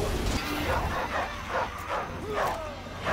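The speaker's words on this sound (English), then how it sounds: "And I guess that dog right there would be Monkey." A dog barks several times at a steady pace, the barks rising over loud, continuous outdoor noise and crowd hubbub with a whine-like tone in between.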